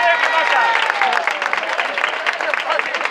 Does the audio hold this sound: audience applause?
yes